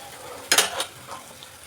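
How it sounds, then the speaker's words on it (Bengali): Water poured into a hot pot of cooked, braised chicken sets off a brief, sharp burst of sizzling hiss, followed by a second smaller flare and then quiet, faint stirring noises. "এখন আমি জল দিয়ে দেবো।"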